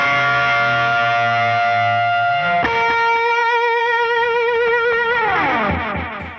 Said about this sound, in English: you add distortion and delay and the song builds this part and you hit this bend